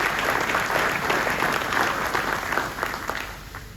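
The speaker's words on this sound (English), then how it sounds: "Can you give yourself another round of applause?" Steady applause from the audience at a high school football awards ceremony in Marion County, dense and sustained clapping filling the room with no speech over it.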